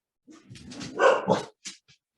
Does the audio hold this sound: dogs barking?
yes